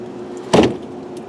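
The tailgate of a 1973 Jensen Interceptor unlatches with a single short, sharp clunk, close and alone over a faint steady hum.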